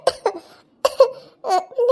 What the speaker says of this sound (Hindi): वो जरा सी खांसी आ रही थी